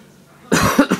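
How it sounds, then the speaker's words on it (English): A single harsh cough bursts out after a moment of quiet, close and loud, with a couple of rough hacking pulses. "I'm having a horrible cough."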